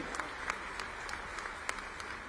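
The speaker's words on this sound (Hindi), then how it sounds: "तालियां बजे तो जोर से बजे" Audience applause at a Bhopal government policy launch event, a steady wash of many hands clapping at moderate distance, with a few sharper claps standing out and no voices on top.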